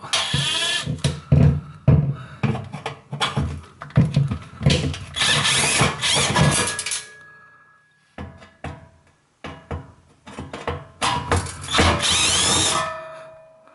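A power screwdriver undoes the two screws holding the back fan plate of a cooker oven, whirring in repeated bursts with short pauses between them.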